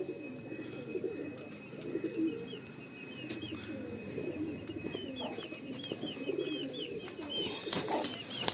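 Breeding pigeons in a loft coo softly and repeatedly in low, rolling murmurs. Bird chirps and faint background noise carry on around them.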